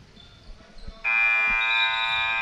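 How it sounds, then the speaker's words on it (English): A loud, sustained electronic buzzer sounds in a school gym before the second half of a high school basketball game, Lexington Christian Eagles vs Clinton County Bulldogs, cutting in sharply over faint sneaker squeaks and ball bounces. "they got a loud buzzer in here, don't they?"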